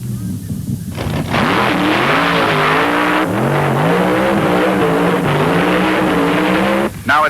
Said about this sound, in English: In this run with the nitro fuelers, Danny Wanger, driving for the Hot Rod Shop, beats Denny Darrell